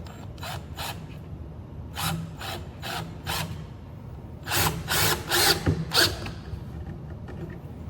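A power drill driving a screw into a rattan pole, several short whirring bursts that grow louder and longer toward the end, close by with no speech.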